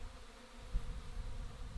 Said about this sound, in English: There's still quite a lot of bees hanging around the tree from where we took the swarm